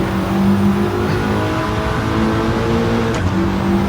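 A Mitsubishi Lancer Evolution engine in a racing video game revs loud and steady, its buzzing tone rising and dropping slightly between shifts, heard up close and alone.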